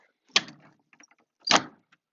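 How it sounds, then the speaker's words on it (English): A door being shut securely with a knotted sheet thrown over it, giving two sharp thuds about a second apart with faint clicks and rattles in between. "you're going to shut the door securely"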